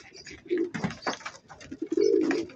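Pigeons coo softly and repeatedly inside a loft where young birds are kept, close up with low, throaty, rolling calls and no talk.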